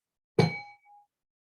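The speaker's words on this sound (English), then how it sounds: "When you hear the gong sound" A gong is struck once, close and clear, its bright metallic ring fading quickly with a faint tone lingering just under a second.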